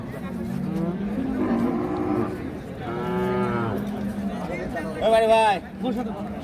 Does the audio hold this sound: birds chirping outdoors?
no